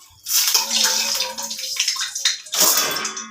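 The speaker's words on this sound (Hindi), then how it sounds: "सबसे पहले हम इसको तो पानी डाल के और फिर धुल देंगे" Vegetable pieces being washed under running water in a kitchen, a steady close splashing and gushing that runs almost without pause, briefly dipping before surging again near the end.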